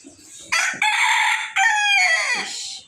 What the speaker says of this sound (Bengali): মোরগ ডাকে।